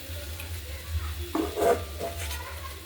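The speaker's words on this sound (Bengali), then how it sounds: "জলটা শুকিয়ে গেছে প্রায় এবার ভাজা ভাজা হবে এবার একটু একটু ভাজার মতো করে নিতে হবে" Chopped spring onions fry in mustard oil in a wok, a soft steady sizzle broken by a few stirring scrapes and clinks of a utensil against the pan around the middle, close and moderately quiet.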